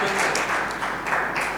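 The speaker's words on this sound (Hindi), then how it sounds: "जोरदार तालियां होनी चाहिए" Steady broadband applause from an audience at a comedy stage show, loud and continuous for the whole moment, with faint voices mixed in beneath the clapping.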